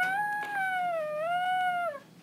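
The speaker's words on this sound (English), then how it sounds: "I hear them howling at the moon" Wolves howling at the moon in SurvivalCraft: a single long, clear tonal howl that wavers gently in pitch and then fades, heard alone against quiet background.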